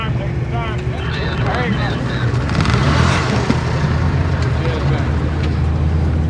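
Wide-body C7 and C8 Corvettes, some on Aerolari wheels, cruise past in a led car show parade at Carlisle, giving a steady blended engine rumble throughout with background voices.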